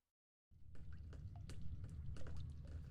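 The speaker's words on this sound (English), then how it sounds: "Where's that water sound coming from?" Faint water trickles and drips in the video game The Stanley Parable, starting after a short silence and continuing as a soft, irregular patter of droplets.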